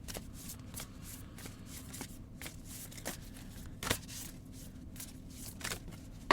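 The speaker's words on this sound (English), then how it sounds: "So just give a little shuffle here" A tarot card deck is shuffled by hand, producing a steady, close riffling patter of cards with repeated soft snaps at a brisk, fairly even rhythm and no talk over it.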